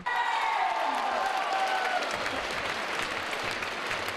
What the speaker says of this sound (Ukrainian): Для них зала аплодує стоячи